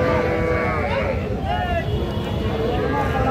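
A crossbreed heifer calf lows at a busy cattle market, a drawn-out moo rising and falling over steady crowd chatter and background voices nearby.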